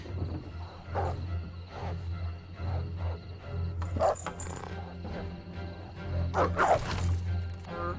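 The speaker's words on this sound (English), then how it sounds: "there are packs of wild dogs roaming about" A pack of wild dogs barks repeatedly in rough, overlapping bursts out on open ground, the calls growing louder and more clustered toward the end over a droning background.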